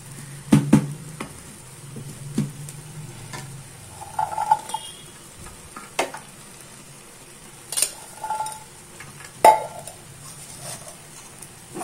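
A spoon scrapes and clinks in a pot as boiled soya beans are stirred into ghee rice, with sparse separate strokes and soft pauses between, close and alone.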